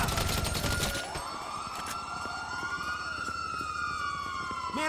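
Wailing ambulance siren in the video game GTA V, rising and falling sweeps that carry on over a background of game noise, with gunfire-like bursts early on.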